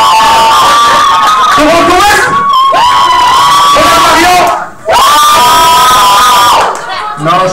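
Loud school crowd cheering and shouting at a game between ÉS Gabriel-Dumont and ÉS Etienne-Brûlé, with sustained yells and whoops in long waves, close and dense, and a voice speaking over it.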